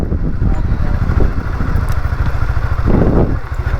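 A motorcycle engine runs loud and close at the Dhalikandi boat ghat near Dhaka, a throbbing, clattering idle that carries through the whole short stretch.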